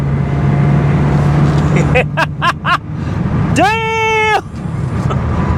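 A $425 BMW E36 318i with a fault, engine held at high revs around 6500 RPM on the open road, a steady low drone running under excited exclamations from people inside the car.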